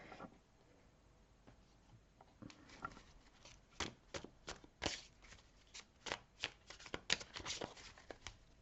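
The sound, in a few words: shuffling Rider-Waite tarot cards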